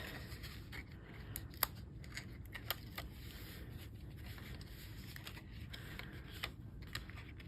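Scissors trim a small strip of paper for a handmade wiper card. A few soft, close snips and faint rustles sound in a quiet room, with no talking.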